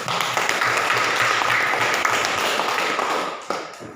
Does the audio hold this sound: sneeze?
no